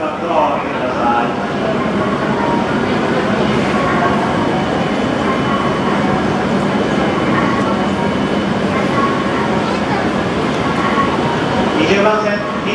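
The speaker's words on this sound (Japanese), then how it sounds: "電車動いております。" A Hokkaido Shinkansen H5 Hayabusa train rumbles and rolls out of Tokyo Station, with steady clattering wheel noise and platform loudspeaker announcements throughout.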